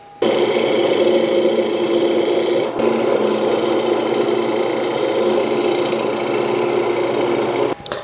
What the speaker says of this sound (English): we're going to run our skew chisel across it a few times